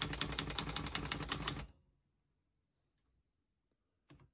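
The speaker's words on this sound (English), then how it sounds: "As you can see, all the keys type nice and none of them skip or stick." A 1956-58 Tower Chieftain vintage portable typewriter types a rapid, even run of crisp key strikes for over a second, then stops into near silence before one last sharp clack.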